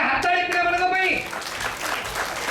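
An audience claps at a school cultural celebration, a steady patter of applause that rises as music fades out, with a faint voice over it.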